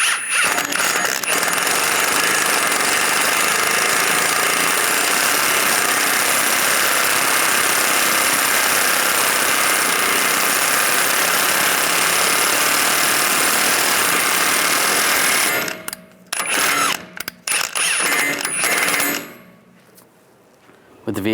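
Power tool tightening the axle nut on a 1998-2010 Volkswagen Beetle during a strut replacement, a loud continuous mechanical whir and rattle running steadily before breaking into short bursts and stopping near the end.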